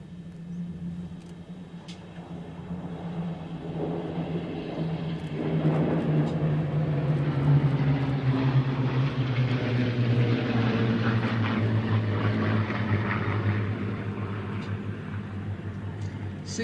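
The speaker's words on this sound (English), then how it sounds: "from the left, here is the Spitfire overture" Six Spitfires sweeping in from the left over an airfield, a layered piston-engine drone with low pulsing tones that swells to a loud peak overhead and then eases away, with brief clicks scattered throughout.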